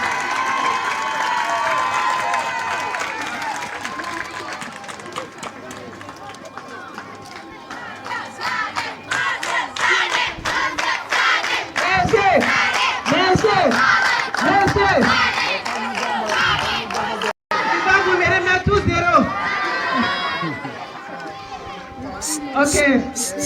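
A crowd at a school certificate ceremony for the Niodior high school breaks into loud cheering, shouts and scattered clapping, swelling in the second half and staying close and dense throughout, with voices calling out over it.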